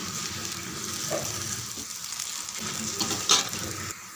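A ridge gourd batter adai cooks over medium heat on a pan, giving a steady soft sizzle and faint crackle throughout, close but quiet, with one small clink near the end and no talking.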